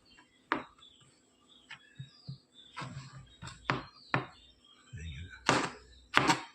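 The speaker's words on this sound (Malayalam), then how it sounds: "ഈ ഒരു നീളത്തിൽ കനം കുറഞ്ഞ് അരിഞ്ഞെടുക്കുക" A knife slices elephant foot yam (chena) into thin strips, giving about ten crisp, close chopping thunks on a board in an irregular rhythm with quiet gaps between them.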